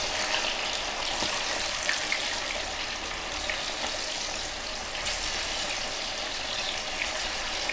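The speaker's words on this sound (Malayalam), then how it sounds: "നമ്മുടെ ചിക്കൻ ഫ്രൈ ഇങ്ങനെ നമ്മൾ തിരിച്ചിട്ട് കൊടുക്കുകയാണ് നല്ല മൊരിഞ്ഞെടുക്കണം" Chicken 65-style fried chicken pieces frying in hot oil give a steady, dense sizzle with crackling pops throughout, close and continuous with no voices.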